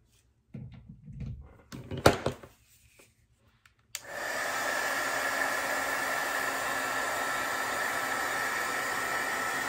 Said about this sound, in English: Get my little heat tool out to dry a little faster.